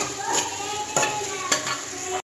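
Onions sautéing in a pan for Kerala-style curry give a steady close sizzle, with three short spoon scrapes spaced about half a second apart, and then sudden silence at the end.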